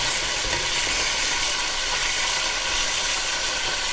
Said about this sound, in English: So we're just making sure basically that it is brown on both sides